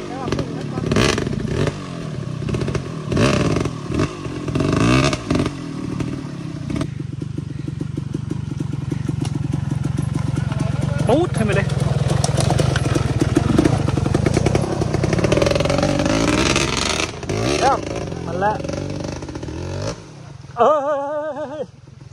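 Enduro motorcycle on a stream-bed and hill trail, the engine revving and surging up and down close by, with clattering and thumps over rough ground, while a rider talks over it.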